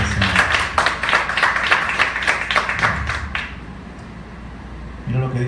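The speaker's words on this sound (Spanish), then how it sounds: "Denle un aplauso al Señor." A church congregation breaks into applause, many hands clapping in a dense burst for about three and a half seconds before fading, then a low voice returns at the end.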